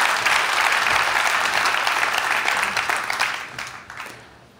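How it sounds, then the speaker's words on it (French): An audience applauds in a conference hall, loud and dense at the start, then thinning and fading out toward the end. "Je vous demande de les applaudir bien fort."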